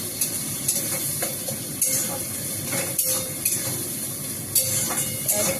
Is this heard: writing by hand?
no